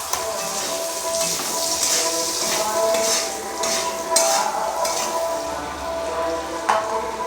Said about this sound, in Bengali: এবার আমি এগুলোকে নাড়াচাড়া করব একটু